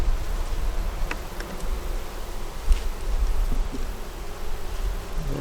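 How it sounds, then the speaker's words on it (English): Honey bees hum steadily inside an opened hive box during an outdoor hive inspection, a dense continuous drone close by, with a few louder individual buzzes passing near now and then and no talking. "Got a pretty good little bit of bees there."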